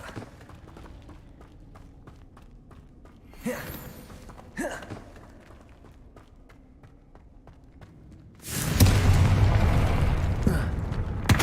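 A Confringo blasting spell in the video game Hogwarts Legacy, two short bursts at first and then a loud, sustained fiery explosion that roars near the end over quiet rhythmic footsteps.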